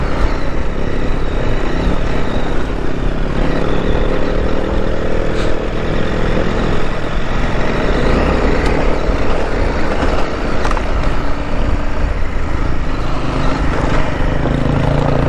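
A 2023 KTM 890 Adventure R motorcycle climbs rain-packed dirt trails on the Las Vegas Dual Sport 300 ride. Its engine roars continuously and close, mixed with rushing wind and the crunch of the trail throughout.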